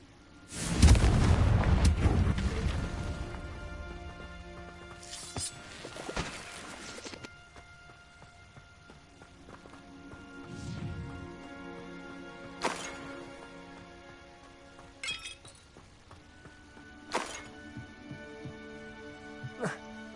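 Bombarda and Confringo spells detonate in a magical video game battle: a big booming blast up front, then scattered sharper cracks and impacts spaced through the fight, with a voice calling out spells between them.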